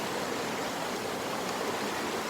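A small, fast-flowing river in Kalimantan forest rushes steadily, a continuous close hiss of moving water with no voices.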